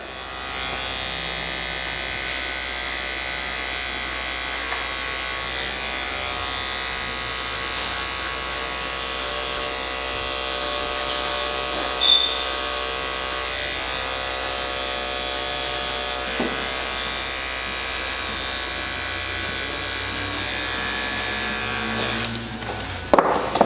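Electric hair clippers fitted with a detachable OA blade cut hair during a barbershop mid bald fade, a steady close buzz running unbroken for the whole stretch with no talking.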